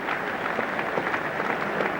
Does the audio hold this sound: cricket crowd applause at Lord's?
yes